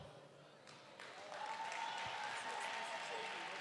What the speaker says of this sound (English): Can we give him a round of applause over there, sir?